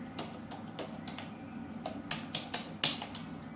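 Keys clack on a computer keyboard while a document is typed in MS Word, sounding as soft, irregular taps close by with a few sharper strokes near the end.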